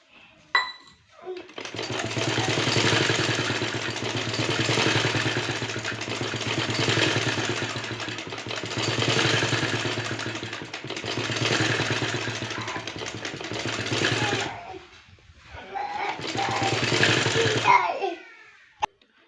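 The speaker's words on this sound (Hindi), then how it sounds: "तो डबल स्टिचिंग करते हैं हम" A sewing machine runs in long continuous bursts, double stitching lace onto the hem of a kurti; a loud, close mechanical whir with brief pauses between runs and no talking.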